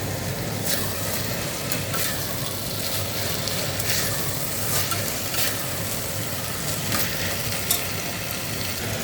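Mixed vegetables for a vegetable biryani frying in a pan with a steady, dense sizzle and faint stirring clicks, heard close and continuous with no talk.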